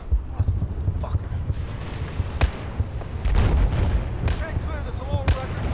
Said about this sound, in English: Is that our gun or their gun?